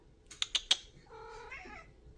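In a home kitchen, three quick sharp knife chops on tomatoes ring out, followed by a drawn-out cat meow, all fairly quiet and close.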